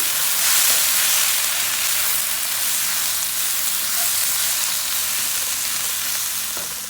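Sliced carrots and onions frying together in a pan for vegetable spring rolls, a loud, continuous close sizzle with faint stirring, fading slightly toward the end and free of speech.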